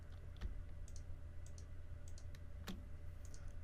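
A computer mouse clicking faintly while parts are selected in nesting software, a handful of sparse, light clicks over a steady low hum.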